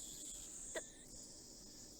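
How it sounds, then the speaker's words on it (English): Steady high-pitched cicada chirring from a Steins;Gate game scene, a continuous insect drone holding throughout with one brief soft click partway through and no talking. "The only sound is the chirping of cicadas."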